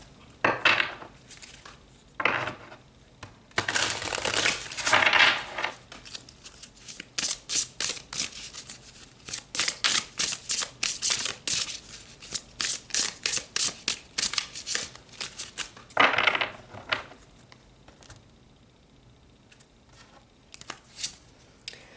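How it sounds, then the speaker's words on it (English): Tarot cards being shuffled by hand, with repeated crisp riffles and ruffling bursts of papery flutter in quick rhythmic runs, close and clear, with no talking. "All right, let's pull some more cards."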